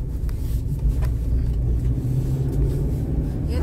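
An old, run-down car passes along a narrow street, a steady low engine rumble that stays close and fairly loud for a few seconds with no voices over it.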